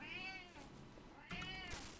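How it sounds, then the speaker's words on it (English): A pet cat meows twice at dinner time, clear nearby calls about a second apart, with no talking during the meows. "meow, really, can you hear that?"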